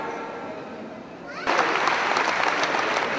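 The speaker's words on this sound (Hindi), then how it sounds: "आपकी तालियां निरंतर बजती रहनी चाहिए।" At an All India Inter University wrestling competition at CDLU Sirsa, the audience suddenly breaks into loud, continuous clapping partway through, after a quieter murmuring stretch.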